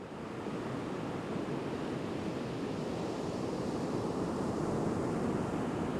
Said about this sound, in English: The surf is already creeping closer here in Panama City Beach as Hurricane Michael is intensifying into a powerful Category 4 storm.